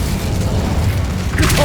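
A fire spell cast in Hogwarts Legacy, a low rumbling boom that swells into a fiery whoosh near the end of the short burst.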